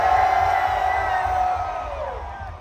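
Concert crowd at a live rock show in Daytona Beach, Florida, roaring and whooping loudly, a dense sustained cheer that slowly fades toward the end.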